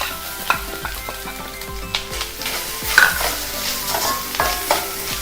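Grated coconut sizzles in a pan with well-browned fried onions, a steady close crackle broken by several sharp stirring scrapes and clinks, with no talk.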